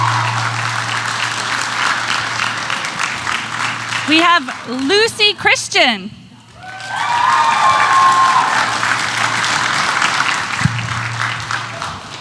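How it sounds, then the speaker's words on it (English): Audience at a Rhode Island Comic Con voice actors panel clapping and cheering loudly, the applause cutting out while an announcer speaks, then surging back in a full roar of clapping. "Give her a big round of applause."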